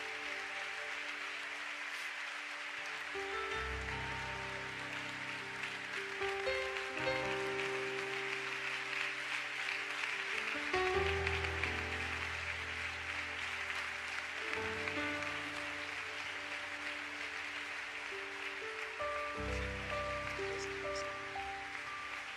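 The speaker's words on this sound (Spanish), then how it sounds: "acompáñenme a recibir con un fuerte aplauso al misionero Eliseo Duarte" A church congregation applauds to welcome missionary Eliseo Duarte, a long, soft, even spread of clapping over sustained instrumental music with shifting held tones.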